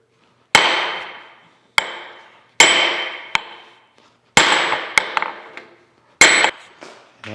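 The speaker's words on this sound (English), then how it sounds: "I got a punch and a 4-pound sledge here." A 4-pound sledgehammer strikes a steel punch set against a stubborn Chattanooga No. 14 cane mill, giving six loud, ringing metallic blows at uneven intervals, each one decaying briefly before the next.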